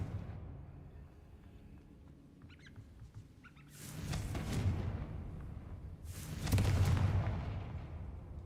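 Two booming fire-blast explosions from the Confringo spell in Hogwarts Legacy, each a sudden loud roaring burst that rumbles and fades over a couple of seconds, the second one heavier, following a quiet stretch.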